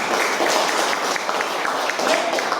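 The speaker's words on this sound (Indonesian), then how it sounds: "Tepuk tangan untuk kelompok 5." Applause from a classroom audience of teachers in training for a presenting discussion group, a steady wash of many hands clapping lasting the whole moment.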